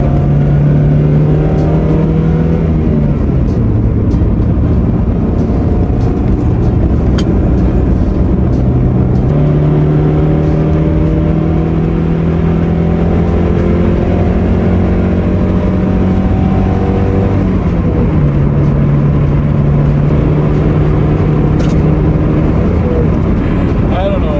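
A 1992 Mazda Miata NA with the 1.6 liter engine revs repeatedly, and its pitch rises and falls in long sweeps, loud and close throughout.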